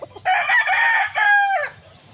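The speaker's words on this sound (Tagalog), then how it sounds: "Napakagwapong manok, grabe." A two-year-old Boston White gamefowl rooster gives a single loud, close crow of about one and a half seconds, rising and then trailing off, with faint background noise before and after.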